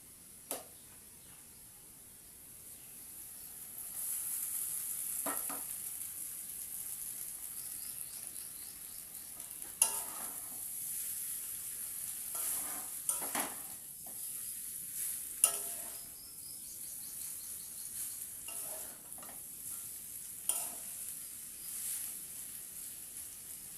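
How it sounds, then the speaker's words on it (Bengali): Steady sizzling from a hot pan with scattered scraping clicks of a utensil as chow mein is tossed and stirred with fried potato, continuous and fairly quiet, with no talking. "এর মধ্যে আমি এখন চাউমিনটা দিয়ে দেবো।"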